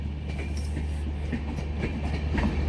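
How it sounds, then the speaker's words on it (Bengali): The Tebhaga Express pulls out of New Farakka Junction, its carriages rumbling close by with rhythmic clickety-clack wheel beats over a steady low roar. "নিউ ফারাক্কা জংশন থেকে ট্রেন বেরিয়ে যাবে"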